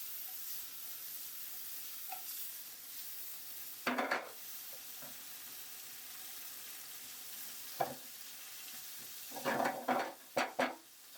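Tomatoes going into a pan of browning garlic and butter for gnocchi: a quiet steady sizzle broken by a few sharp clinks and stirring scrapes, the loudest cluster near the end.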